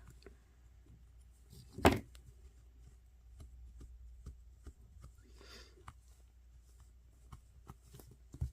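Scissors snip leftover yarn threads from a finished crochet scrubber motif, one sharp close cut standing out among soft rustles and faint handling sounds in a quiet room.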